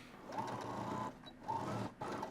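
Sewing machine back stitching on jeans, close whirring bursts that stop and restart in short runs as the stitching direction reverses, with brief pauses between.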